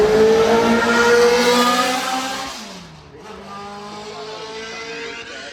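A Shadow Mark II Chevrolet Can-Am race car at Goodwood roars past loud and close, its engine note rising through the gears, dipping as it passes, then revving hard again while pulling away.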